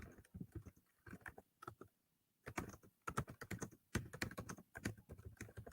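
Keystrokes on a computer keyboard come in quick irregular bursts, with a short pause near the middle before a denser run of close, crisp clicks.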